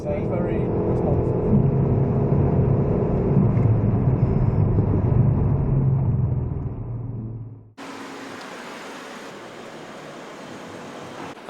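A four-cylinder car roars loudly at full throttle on the Goodwood circuit during a track day, a dense, steady engine drone that cuts off sharply near the end into a quieter, hissy background.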